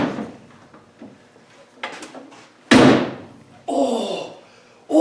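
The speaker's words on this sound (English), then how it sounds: "press this door at the top and see if we can twist it. Ooh, you can hear a few creaks and groans." A Land Rover Defender door, pressed at the top and twisted, gives a few creaks and groans, then a loud close thunk and a longer grinding rasp, heard up close.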